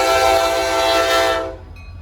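A locomotive horn sounds loud and steady at a main rail crossing, part of a five-locomotive FRA safety train with a slug engine, holding its chord for about a second and a half before cutting off.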